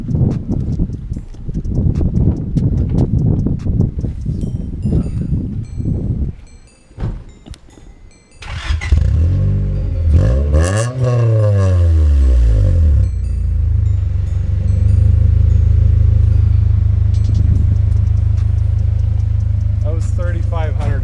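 Honda Prelude with a dual overhead cam VTEC engine: after some clattering and handling noises it starts and revs up to 3,500 RPM, then settles into a loud, steady idle drone close by.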